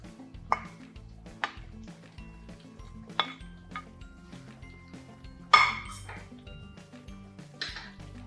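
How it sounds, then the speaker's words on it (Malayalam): Fried fish going into a chilli fish pan makes sparse, faint metallic clinks and scrapes of a utensil against the pan, with a sharper clatter near the middle. "ഇനി ഇതിലേക്ക് വറുത്ത് വെച്ചിരിക്കുന്ന ഫിഷ് ചേർക്കാം."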